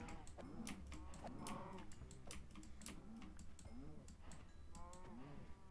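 Several cows moo in a modded Minecraft survival world, overlapping low moos repeating across the clip, faint, with sharp clicking ticks over them.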